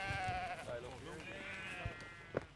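Sheep bleating in farm sheep yards, several overlapping bleats from a flock at a moderate distance, running beneath someone talking.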